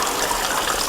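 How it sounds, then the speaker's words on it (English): Water gushing through newly thawed pipes, a loud steady rush of flowing water close by, continuous throughout. "I think the water's starting to flow."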